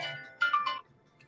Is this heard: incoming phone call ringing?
yes